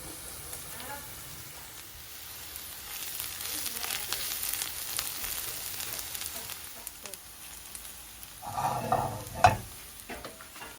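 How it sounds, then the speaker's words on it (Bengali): Leftover restaurant fried chicken meat frying and being stirred in a pan, a steady close sizzle with scraping stir sounds that swells louder near the end. "আমি এটাকেও টেলে নিব, একটু ভাজা ভাজা করে নিব।"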